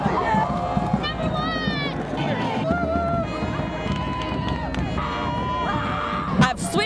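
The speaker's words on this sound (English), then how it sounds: "Can I get a cheer now?" A crowd at a school sports show cheers and whoops loudly, with children shouting and voices overlapping in a continuous roar that swells near the end.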